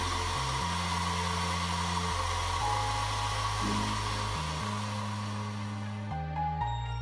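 A hair dryer drying fluid off metal model tank tracks blows continuously with a steady whooshing roar and a low motor hum that shifts slightly in pitch as it's moved around.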